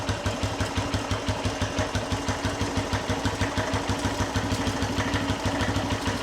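A seven-year-old SYM Wolf 125 motorcycle idles close by, its engine chugging in a steady, even pulse with no talking.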